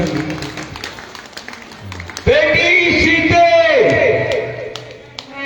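Audience applause at a devotional Ramayana katha about Sita leaving for the forest, a loud sustained burst of clapping that starts suddenly midway and fades, with a voice speaking before and over it.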